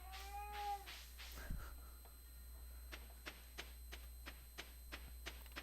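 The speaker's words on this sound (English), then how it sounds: "if you guys hear that noise, that would be my cat" A pet cat named Moto gives a short meow early on, close and fairly clear, followed by a quiet stretch with soft, regular ticking taps.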